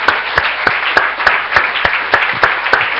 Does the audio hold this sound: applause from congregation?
yes